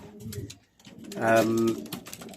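Pigeons coo in a few soft, rounded calls close by, the clearest swelling midway, mixed with a man's speech.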